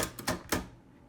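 The backspace mechanism on an Oliver 9 typewriter gives three quick, close mechanical clacks in under a second, which then fade into a quiet room.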